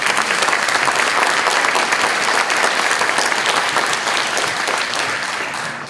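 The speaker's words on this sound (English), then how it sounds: "Can you give our candidates a round of applause?" A forum audience gives the state and national candidates a round of applause; loud, dense clapping fills the room throughout, easing slightly toward the end.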